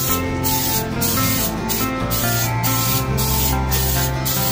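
Hologram glitter paint being sprayed from an aerosol can onto a full-face motorcycle helmet. Short hissing spray bursts repeat at a steady rhythm, close and loud, over a constant background hum.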